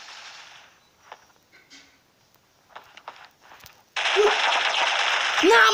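Gunfire in the mobile shooter Critical Ops: a few faint footsteps and light taps, then a sudden loud, sustained burst of automatic fire that carries on to the end, with no talking.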